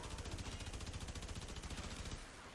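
Fulmin weapon from the game Warframe in full-auto fire, with a dense, rapid stream of loud, close electric shots that pulse evenly for over two seconds before stopping abruptly.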